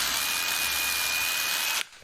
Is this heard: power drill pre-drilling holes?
yes